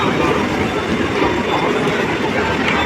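A train at a crowded station platform gives a loud, continuous rumbling roar with a rattling, clattering texture that stays steady throughout.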